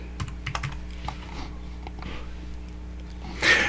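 A computer keyboard clicks close by in a quick run of keystrokes, including backspace presses, with a louder rustle at the end.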